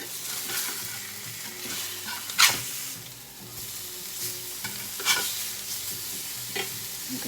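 A steak sears in a pan on a stovetop with a steady, close sizzle and crackle, broken by a few louder spits and pops.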